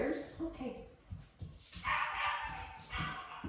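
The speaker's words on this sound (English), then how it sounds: "So he's howling downstairs" A puppy yips, whimpers and howls from downstairs in a home, intermittent and fairly faint, with people talking nearby.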